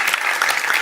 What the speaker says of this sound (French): Applaudissez, faites quelque chose.